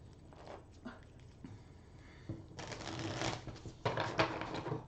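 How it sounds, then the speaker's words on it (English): A deck of cards for a tabletop board game is shuffled quickly on a table, with soft riffling and papery slapping in bursts that grow louder toward the end. "But I'm going to load the market deck, shuffle that real quick."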